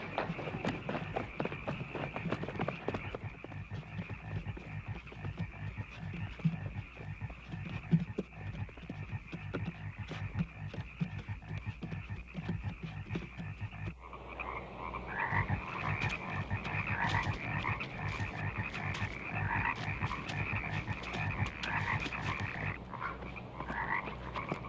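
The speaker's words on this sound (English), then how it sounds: "watch out for the frogs" Frogs croak in a dense, continuous chorus of rapid pulsing calls around a lakeside dock. The croaking is fairly faint and steady and carries on without a break.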